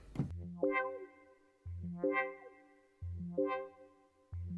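A sawtooth synth pad on a Yamaha YC88 stage keyboard runs through an auto-wah effect, sounding as four repeated chords, each swelling with a sweeping filtered wah rise and fall, quiet and alone without talk.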